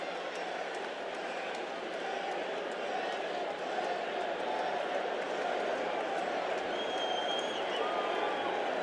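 Baseball stadium crowd at a 1986 Mets–Cubs game as the Mets near clinching the NL East: a dense, continuous roar of cheering fans, broad and distant-sounding, with a commentator's voice over it.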